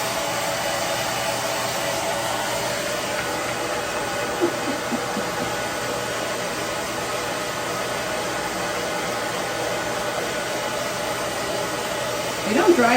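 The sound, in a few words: hairdryer blowing to dry a bathed chicken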